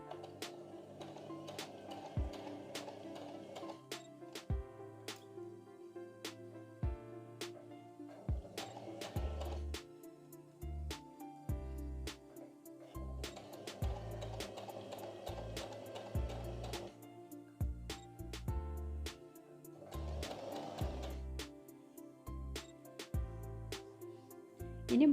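A sewing machine stitches through folded fabric, its motor whirring and needle clattering in short start-stop runs, faint and close, with pauses between bursts.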